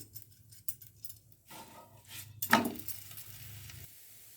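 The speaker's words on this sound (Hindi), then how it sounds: "दोनों साइड से ऑयल लगा के इसको सेक लेना है" A methi lachha paratha fries in oil on a pan with a soft, steady sizzle. Scattered light clinks and scrapes sit over it, and one sharp, brighter crackle rises about halfway through before it settles back.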